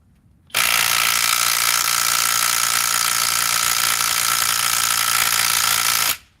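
A stubby power tool, stronger than the Gen 1 stubby, removes a fastener in one loud, continuous mechanical ratcheting burst lasting about six seconds, starting and stopping abruptly, with no talking.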